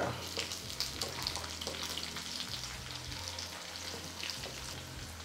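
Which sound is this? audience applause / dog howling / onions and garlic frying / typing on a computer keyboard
onions and garlic frying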